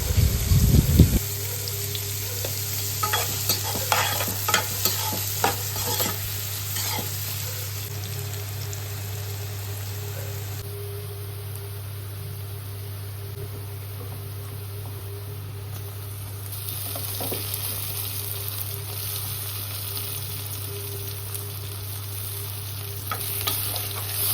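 Chopped tomatoes fry in a pan for an Andhra-style rajma curry, a steady close sizzle with scraping stirs that cluster early on and then thin out over a low constant hum.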